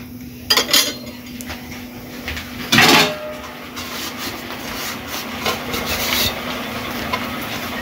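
Lid set on a cooking pot of masoor dal with Malabar spinach, a few close metallic clinks and a scraping clatter with a brief ringing tone, then quieter rustling.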